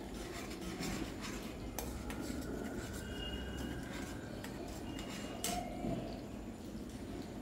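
A spatula scrapes and rasps steadily around a pan of Szechuan chicken frying in fiery red Szechuan sauce, with a continuous close gritty stirring texture and no talk.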